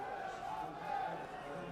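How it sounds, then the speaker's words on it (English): Vocal football crowd at the Marine Travel Arena during an FA Trophy match between Marine and Scarborough Athletic, a steady roar of chanting and noise filling the stand, sustained and moderately distant. "A vocal crowd."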